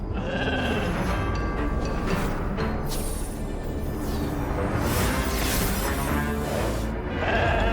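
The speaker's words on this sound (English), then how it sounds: "Ah, it's the slumber sheep!" Slumber sheep from the game Infinity Nikki bleating, several soft, high, wavering calls set over a steady bed of game music and ambient sound.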